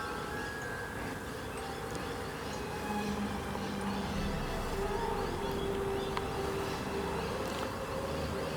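Thousands of honey bees swarm around a swarm trap, making a dense, steady droning hum that stays close and unbroken throughout, with no voices.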